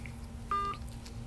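A single short telephone keypad DTMF tone beeps during phone dialing, clear over a steady low hum and background noise.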